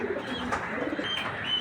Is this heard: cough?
no